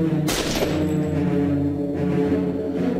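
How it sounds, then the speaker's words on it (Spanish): A 21-shot gun salvo attack in the Marvel Avengers Alliance video game, a sharp burst of rapid gunfire near the start that fades out under game music. "Sobrecarga completa y salva de 21 disparos."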